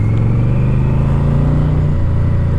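Yamaha VMAX motorcycle engine while riding, a loud steady close-up drone with a humming pitch that eases down slightly near the end, with no talk.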